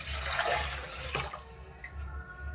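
Cumin and black pepper rasam, mixed with salt and turmeric, is poured into a pot in a steady liquid stream with a brief splash near the middle, continuous and close, with no talking.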